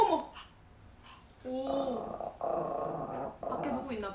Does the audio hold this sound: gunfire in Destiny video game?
no